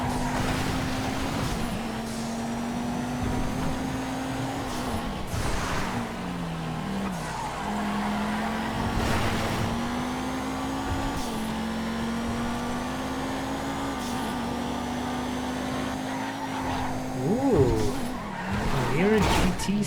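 Fast car in the GTA FiveM racing game, engine revving and droning steadily through a random race with repeated tire skids and squeals, loud throughout with someone talking over it.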